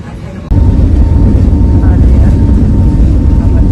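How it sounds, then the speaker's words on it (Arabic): A loud, steady low roar of airplane engines fills the business-class cabin of an EgyptAir flight before takeoff, beginning abruptly after a brief quieter moment and holding constant. "الطيارة بسرعة راح تطير بعد شوية"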